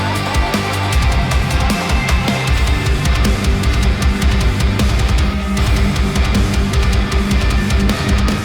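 Metal mix with heavy distorted guitars, bass and synth playing together, loud and dense throughout with steady driving rhythm and no voices.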